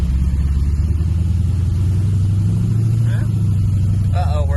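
A nitrous-equipped Chevrolet C10 truck drives slowly with a steady, loud, low engine rumble close by, and a voice briefly sounds near the end.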